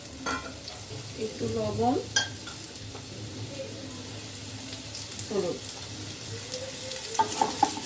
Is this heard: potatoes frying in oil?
yes